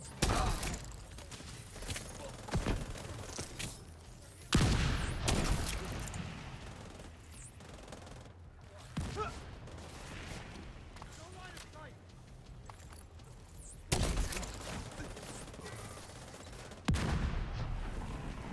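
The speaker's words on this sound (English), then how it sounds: "But I hate these mortars" Mortar shells landing in a video game, heavy booming blasts striking at irregular intervals, each a broad loud burst, amid ongoing battle noise with someone talking over it.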